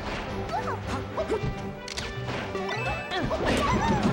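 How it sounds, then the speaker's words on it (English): Down smash attacks landing in a Super Smash Bros. Melee doubles match on the stadium stage, a scramble of sharp crashing hits and whooshes in quick irregular succession, close and punchy. "Down smashes are plenty, being thrown left, right, and center."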